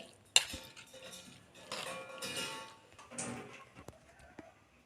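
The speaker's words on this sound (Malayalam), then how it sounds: "ഇനി ഇത് എല്ലാം കൂടെ നന്നായിട്ടൊന്ന് കൂട്ടി ഇളക്കി കൊടുക്കാം" Spoon scraping and clinking against a bowl while sardine mixture with salt and coconut oil is mixed for Kerala-style mathi peera, with scattered near clatter and rustling in uneven bursts.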